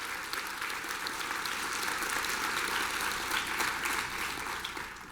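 Steady audience applause fills a formal university address hall, a continuous even patter of many hands clapping at moderate, somewhat distant level throughout.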